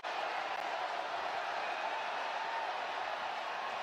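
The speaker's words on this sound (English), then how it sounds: "This crowd sounding like a regular season game." Steady roar of a football stadium crowd cheering at a Los Angeles Chargers preseason game, a dense, distant wash of noise that holds level throughout.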